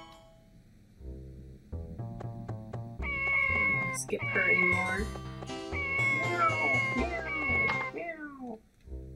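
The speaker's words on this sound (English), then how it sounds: "I love those cats." Cats meow in the farming video game Harvest Moon 64, their cries sounding over game music while a person speaks briefly.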